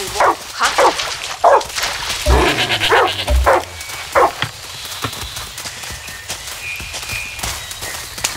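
A dog barks several times in the Far Cry 6 video game, with short loud yelps and whimpers early on, followed by quieter ambient game sounds.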